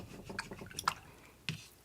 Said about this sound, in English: Giving it a good swish in the water.